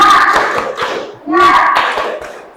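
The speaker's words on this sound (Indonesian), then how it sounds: "Tepuk semangat" A classroom of students performs a 'tepuk semangat' clapping chant, with a quick run of rhythmic hand claps mixed with chanting voices, fairly loud and close.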